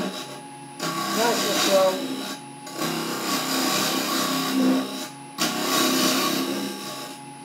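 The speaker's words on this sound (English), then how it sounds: "fire the lathe up" A wood lathe spins a teak pot blank while a tool rubs and scrapes across the turning wood. A steady whirring, rasping noise comes in sustained bursts with short pauses, under someone talking.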